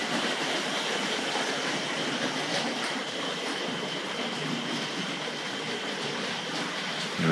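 A steady, continuous rumble and rattle of Tri-ang model trains, including a 2-6-2 tank locomotive, running opposite ways around a track, with a faint rhythmic clatter throughout and no voices.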